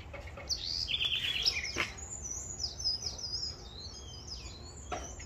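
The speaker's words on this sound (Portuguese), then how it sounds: "Você viu que lindo os pássaros cantando?" Several birds chirp and sing in a garden, bright repeated tweets and short trills fairly close, continuing over steady background noise with no talk.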